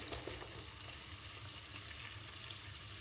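Onion pieces fry in a generous amount of hot butter with a continuous close sizzle and bubbling hiss that holds steady and cuts off abruptly at the end.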